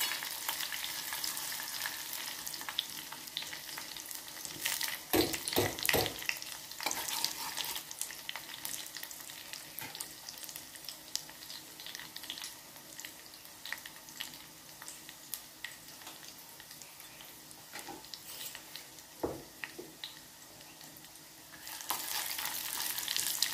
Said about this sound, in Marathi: दोन मिनटं भाजून घेऊया। लसूण ना थोडंसं सोनेरी होऊ दे।